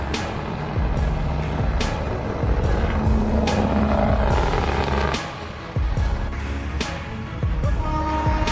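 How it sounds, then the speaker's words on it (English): A huge heavy truck on an open road rumbles on a low, steady engine drone with sharp clanks and hisses in the mix, loud and near, and a short dip in level partway through. "The huge truck rumbled down the endless stretch of road, its powerful engine a steady beat against the strong wind"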